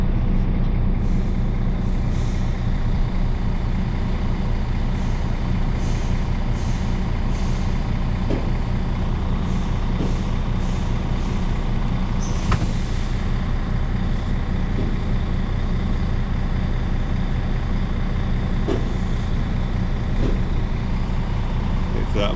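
An HGV truck's wheels turning on a roller brake tester, a loud continuous mechanical drone with occasional air hisses and clicks layered over the steady hum.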